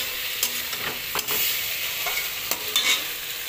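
Potatoes stir-fry with spices in a pan: a steady moderate sizzle broken by several sharp scraping strokes of a spatula at irregular intervals, close up and with no talking.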